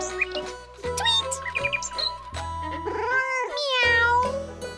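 A cartoon cat in an animated children's storybook meows a few times, rising and falling, with chirpy bird-like calls and light music woven between.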